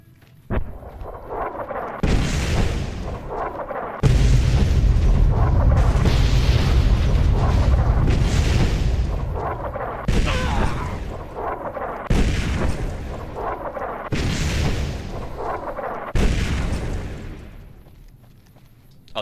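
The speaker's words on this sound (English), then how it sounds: "probably gonna get hit by a bomb" Repeated heavy bomb blasts from Boomers in Fallout: New Vegas, about seven deep booms a couple of seconds apart, each a loud thud followed by a rumbling decay, with no talk.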